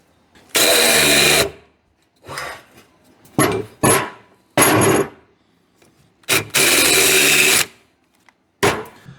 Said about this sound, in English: let's chamfer the holes and see what happens